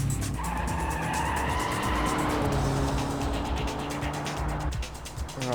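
Front-wheel-drive track car in BeamNG taken through a long corner and slalom in second gear, engine droning steadily close by as tires scrub and squeal through the turns.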